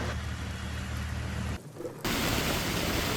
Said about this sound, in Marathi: जोरदार पाऊस तिन्ही भागांमध्ये, अर्थात मुंबई आणि मुंबईच्या आसपासच्या संपूर्ण भागांमध्ये जोरदार पाऊस बरसतोय.